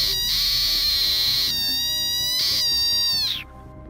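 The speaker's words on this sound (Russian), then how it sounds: "Эта лягушка надулась словно пузырь. При этом она начала издавать необычные звуки." An inflated rain frog lets out shrill squealing calls in a few sustained bursts, close and loud, with a short gap between them before it falls quiet.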